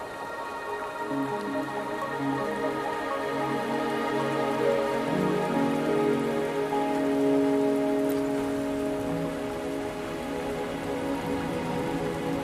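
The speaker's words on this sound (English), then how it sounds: "Are you trapped here by the rain?" Steady rainfall patters on surfaces in the Wuthering Waves video game, a dense, even hiss of drops with faint tonal game ambience beneath, continuing unbroken throughout.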